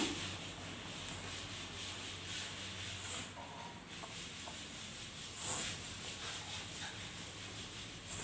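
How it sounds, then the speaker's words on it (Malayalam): Egg pakoda batter with coriander leaves and curry leaves being kneaded by hand, a steady soft squelching rub with a few brief louder squishes, close and alone without talk. "ഇത് നന്നായിട്ട് കൈ ഉപയോഗിച്ച് കുഴച്ച് കൊടുക്കാം."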